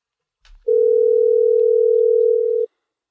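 A telephone dial tone heard while placing a call: a brief click, then a steady, loud, pure single tone lasting about two seconds before cutting off.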